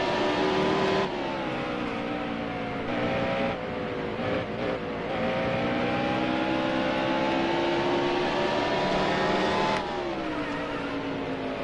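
Race car engine in NASCAR Heat Evolution at Bristol, a loud, continuous high-revving drone that holds steady with brief dips at gear shifts and lift-offs, close up and alone without talk.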